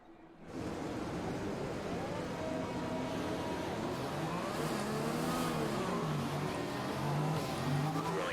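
A racing car engine in a sim racing game on the Hanoi circuit drones and revs steadily through the gears, continuous and fairly loud, with faint tire noise.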